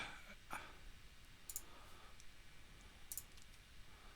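Several soft, quiet mouse clicks sound in isolation during Civil 3D software work, scattered over a faint room hiss without any talk.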